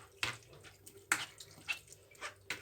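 Water is poured into a lemon and citrus lemonade mixture, a faint series of short splashy gushes at irregular intervals, close by and with no speech.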